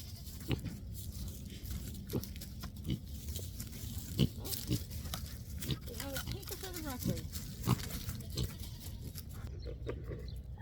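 Farm pigs waiting for berry-and-cream treats give short, scattered grunts close by, repeated irregularly over a quiet background, with voices talking among them.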